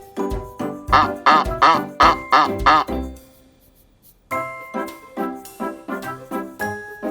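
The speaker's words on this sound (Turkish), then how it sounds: "Kazın boyu çok uzundur ve kak kak diye ses çıkarır" A farm goose gives a rapid series of loud, nasal honks, about eight in a row, then falls silent briefly before another run of shorter, slightly fainter calls.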